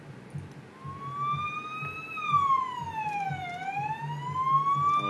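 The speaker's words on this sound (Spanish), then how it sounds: "tenemos otros sonidos diferentes como sirena." Wailing emergency siren effect sweeping slowly up and down in pitch, loud and steady, over a low rumbling traffic-like background with no talk.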